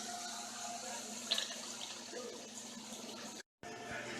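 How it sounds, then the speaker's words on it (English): Tap water running into a kitchen sink while chicken is drained, a steady close hiss of flowing water with a brief clatter partway through and a short cut of silence near the end. "Now the reason I had the water on so I don't have that chicken smell all in the sink later on today."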